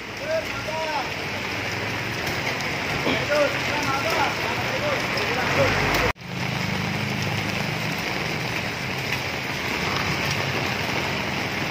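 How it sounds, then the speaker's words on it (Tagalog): Continuous rain pouring down while walking outdoors, a dense wash of noise throughout with faint voices underneath and a brief dropout partway through. "Ayaw po tumigil yung ulan mga kasukat."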